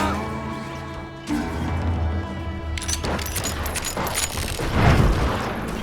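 Gunfire in the Western shooter Call of Juarez Gunslinger, with sharp booming shots and crashes breaking in over a musical backdrop and building toward a louder burst near the end.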